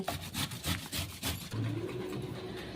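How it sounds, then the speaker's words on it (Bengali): Papaya rubbed against a grater in a quick series of rhythmic scraping strokes up close, which then give way to a softer, steadier rasp. "তো এইভাবেই সমস্ত পেঁপেগুলোকে ঘষে নেব।"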